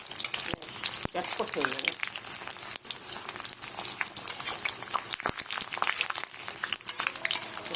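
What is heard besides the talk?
papad frying in hot oil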